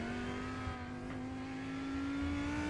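Lamborghini GT3 race car in a sim racing game, its engine a steady sustained tone rising slowly in pitch as it draws near and passes across the finish line, loud and continuous with no talk.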